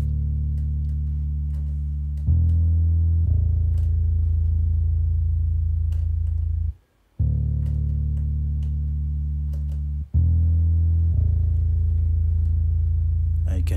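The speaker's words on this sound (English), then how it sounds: "the bass line sounds like this" A deep synth bass line of long held notes that step between pitches, with brief pauses between phrases, loud and alone.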